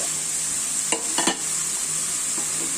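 Crushed spice paste goes into frying onions and sizzles in the pan, a steady loud frying hiss with a few scraping stirs near the middle.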